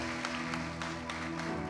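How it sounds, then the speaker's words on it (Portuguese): A church congregation applauding the Lord during a worship service, a short burst of steady clapping over a sustained musical tone, with no break. "E a igreja aplaude o Senhor."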